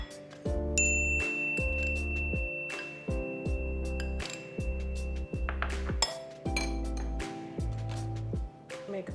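A spoon clinks against a bowl in a steady rhythm, about a dozen bright rings, while cornflour batter for banana fritters is stirred, clear and close with no talk over it.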